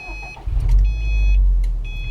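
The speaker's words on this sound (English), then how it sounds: "we're going to be going and starting the vehicle right now" A 2013 Subaru STI Limited's engine cranks and fires, settling into a loud, steady low rumble close by, with faint electronic chimes sounding over it.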